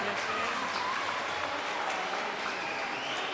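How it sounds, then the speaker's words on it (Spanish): Applause from the crowd around a swimming pool at a swim meet as a swimmer finishes a race, a steady wash of clapping throughout with a voice talking over it. "el aplauso de toda la piscina"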